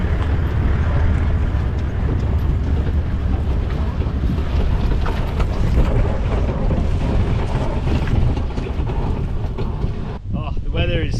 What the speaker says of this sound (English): It's only blowing like 50 k's an hour